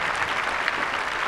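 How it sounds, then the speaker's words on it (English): Steady applause from a tennis tournament crowd at the Charleston final, dense and even throughout with no break. "Let's give them a great big round of applause."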